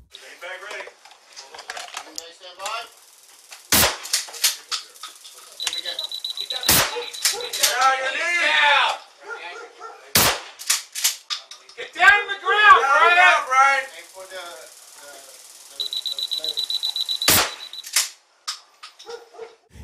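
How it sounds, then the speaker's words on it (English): Police fire several beanbag rounds at an armed suspect during a street standoff, sharp loud reports spaced every few seconds, interleaved with speech, a barking dog and an intermittent high electronic tone. "The officers then fire several beanbag rounds at him."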